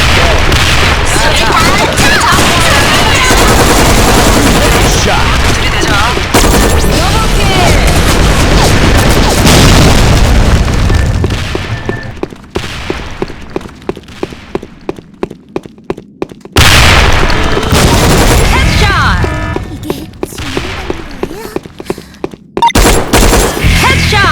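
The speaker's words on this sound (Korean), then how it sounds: "자 수류탄 갑니다 딱 5초 준다" A grenade blast and gunfire in the online shooter Sudden Attack: loud continuous booms and bursts of shots dominate, then rapid repeated gunfire cracks amid explosions, with a player talking over the action.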